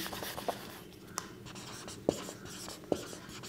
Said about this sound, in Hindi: इसको फिर से लिखते हैं